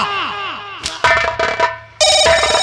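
A telephone rings in loud, bright electronic bursts, interrupted by clattering, and then rings again, close and clear.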